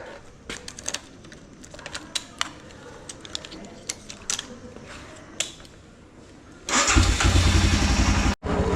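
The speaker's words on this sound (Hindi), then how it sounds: "चलो बाइक को थोड़ा कोल्ड स्टार्ट।" A motorcycle engine cranks with a series of short clicks and sputters, then catches and roars into a loud, steady idle that briefly cuts out near the end.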